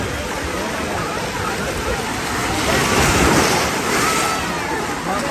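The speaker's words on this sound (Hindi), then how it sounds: "और लहरें काफी तेज है, ये भी नहीं कि बहुत सीलो लहरें हैं, लहरें भी काफ़ी तेज़ है" Strong sea waves crash against the rocks at Haji Ali in Mumbai, a steady broadband roar of surf that swells louder midway, close and continuous with no clear pauses.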